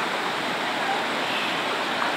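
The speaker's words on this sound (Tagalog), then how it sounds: "Oh, grabe ang agos sa tubig dito." Strong river current rushing over rocks at Majayjay, Laguna, a dense unbroken roar of turbulent water, close and steady throughout.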